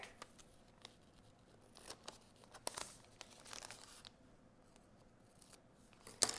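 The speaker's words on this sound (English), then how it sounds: "So I'm going to have to cut my edges off of the hair." Scissors snip through the hair edges of a handmade Christmas elf puppet, giving a quiet series of short, crisp cuts and papery rustles with a sharper snip near the end.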